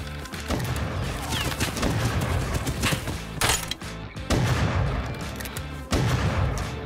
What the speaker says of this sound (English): Who and or what is he shooting at that range with a double barrel?